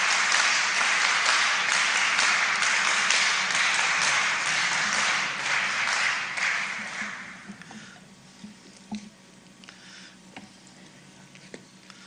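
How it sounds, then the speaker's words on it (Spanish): Audience applause at a political discussion forum, dense and loud for about seven seconds, then thinning out into a few scattered claps and fading away. "Recibamos un aplauso a Alberto Morea Odría."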